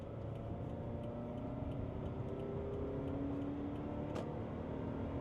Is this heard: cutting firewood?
no